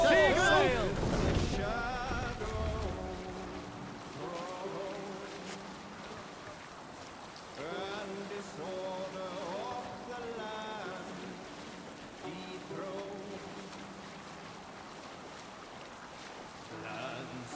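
In Assassin's Creed Valhalla, a Viking longship under sail rushes through water with a soft wash of waves and wind beneath voices singing and talking.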